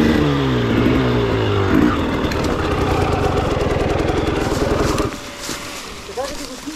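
Enduro motorcycle engine idling nearby, a steady throbbing rumble that cuts off sharply near the end, under people talking.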